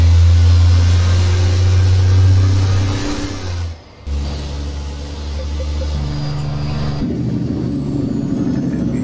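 An International 4070 flat-face truck engine revs hard while driving, a loud deep droning roar that drops off briefly during a gear change and then pulls again at steady revs.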